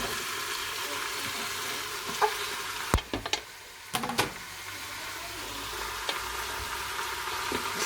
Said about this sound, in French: une fois que mes oignons et mes lardons ont commencé à bien prendre des couleurs, je rajoute